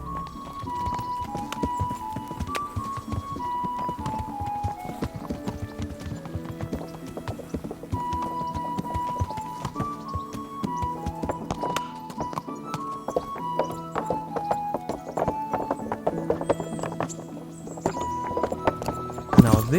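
Video game horse hooves: steady clip-clop of trotting at an even rhythm in Kingdom Come: Deliverance, with occasional thuds and creaks, continuous throughout with no talking.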